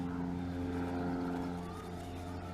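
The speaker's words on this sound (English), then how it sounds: "Sorry about the plane noise, but this is it's a practice area out over here." A propeller plane drones overhead at an aerobatic practice area near an outdoor park, a steady tonal engine hum that holds at a fairly loud level and slowly shifts pitch as it passes.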